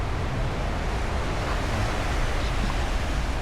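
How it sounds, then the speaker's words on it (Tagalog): Strong surf rolls in along the Sydney coast, a broad roaring wash of waves mixed with wind buffeting the microphone, continuous and fairly loud with no voices. "Lakas ng alon."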